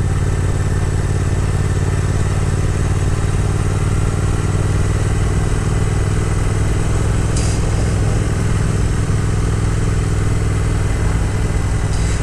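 A 2022 Triumph Speed Twin motorcycle on a ride through country roads and a small park, its engine droning loud and constant for the whole stretch under heavy rushing wind noise.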